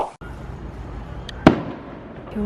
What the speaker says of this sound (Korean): 웬 불꽃놀이를 벌써부터 하냐 시끄러워 죽겠네